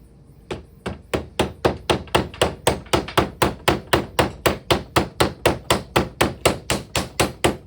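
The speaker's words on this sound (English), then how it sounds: "Then you're just going to hammer them on." Steady, evenly spaced hammer blows drive spines onto a Codex Quest book during assembly. There are about two dozen sharp, close-up whacks in a regular rhythm, with no talking.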